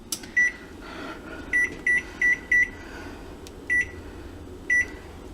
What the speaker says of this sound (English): That glorious sound means it's time to get the brownies out of the oven.